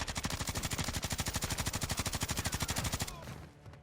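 Rapid automatic gunfire in Call of Duty: Modern Warfare III, shot through a wall: a steady, loud burst of evenly spaced shots lasting about three seconds, then stopping abruptly into a short fading tail.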